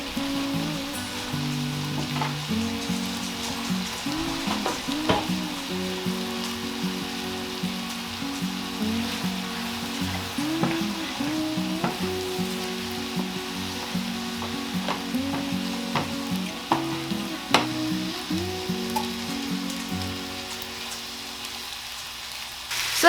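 Shepherd's pie filling fries in a pan with a steady sizzle, while a utensil scrapes and stirs in a rhythmic, repeated pattern close by; no one talks.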